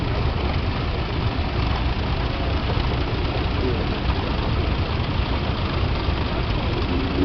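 Vintage tractors, an Imperial followed by a Field Marshal, driving past with a steady, broad engine rumble that holds constant throughout, fairly loud and close, with no clear rise or fall.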